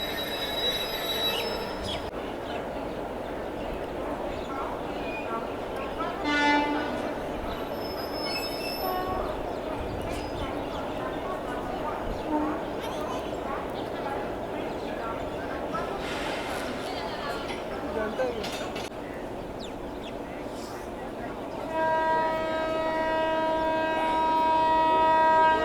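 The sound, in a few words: WAG 7 banker locomotive coupling to a train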